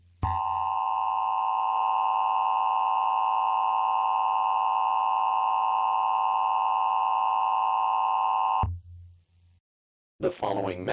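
An Emergency Alert System attention tone blares as a loud, steady two-tone electronic screech for about eight seconds, then cuts off abruptly, followed by a brief pause and the start of a voice.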